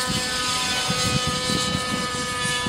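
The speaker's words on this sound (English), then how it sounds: "Hear the engine speed up now?" Engine of an Align Trex 600 RC helicopter, a steady high whine with rotor chop pulsing underneath, loud and close, holding a continuous droning speed-up.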